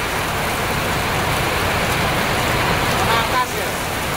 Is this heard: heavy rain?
yes